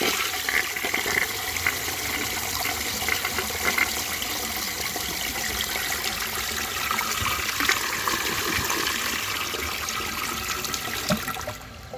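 A 1927 Peerless low tank toilet, rim-powered, flushes with a steady rushing swirl of water that runs evenly for about eleven seconds before cutting off abruptly, close and alone.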